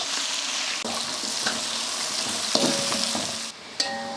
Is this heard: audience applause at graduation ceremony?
no